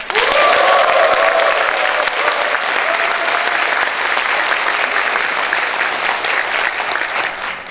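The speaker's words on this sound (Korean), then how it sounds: "청년 당원님들의 힘찬 박수와 환영의 박수로 시작하겠습니다" Loud, sustained applause from a large audience welcoming youth party members at a Democratic Party of Korea national youth committee rally, dense clapping filling the hall for the whole stretch with a brief tonal sound near the start.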